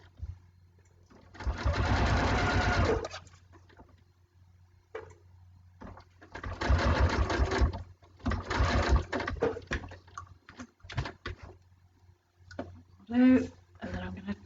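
A sewing machine stitching binding onto a quilt, running in close, loud bursts of rapid whirring stitches separated by pauses, with brief speech in the gaps.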